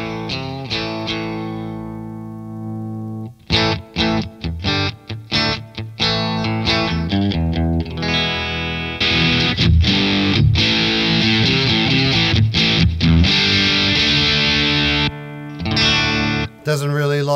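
An electric guitar played through a Boss IR-2 pedal set to Vox AC30 amp simulation, heard loud and up close with no talking: sustained chords at first, then choppy, rhythmic strummed chords and riffs with a bright, overdriven tone.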